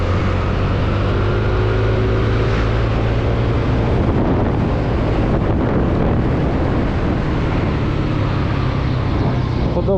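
A 2018 Yamaha NMAX 125 scooter rides flat out on the road, its engine droning steadily under heavy, constant wind rush buffeting the microphone, with no talk.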